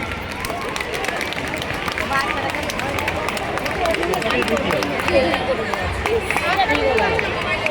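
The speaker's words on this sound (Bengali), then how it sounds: "জোরে হাততালি।" Loud, dense applause from a crowd at a school anniversary event, continuous clapping throughout with background chatter mixed in.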